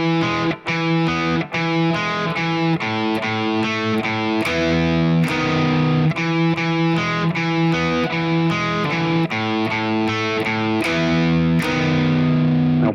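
Slow distorted electric guitar riff from a pop-punk song, played alone as repeating picked notes and chords with a steady rhythm, close and loud for the whole stretch.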